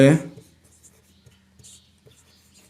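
Pen writing on paper during a class 8 maths lesson, soft close scratching strokes in short bursts after a brief spoken word at the start, faint and intermittent.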